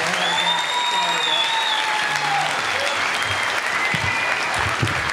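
Audience at a San Diego sober comedy show breaks into loud, sustained applause welcoming a comedian, a dense close wash of clapping with a few cheers and voices mixed in.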